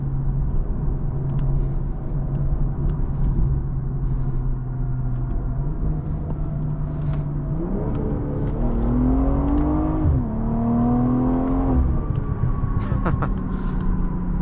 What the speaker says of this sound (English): the car did get a little bit sideways under that hard acceleration